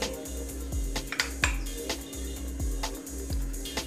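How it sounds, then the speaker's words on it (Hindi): A spoonful of salt goes into a glass with a few light, ringing clinks and taps of metal on glass, close and fairly quiet over a low steady hum, with no voice. "अब हमने एक गिलास ले लिया है, उसमें हम 1 चम्मच नमक डाल देंगे"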